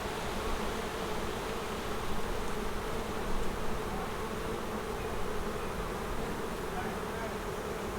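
Dense, continuous buzzing of many honeybees close by in an open backyard hive, a steady droning hum that swells slightly now and then.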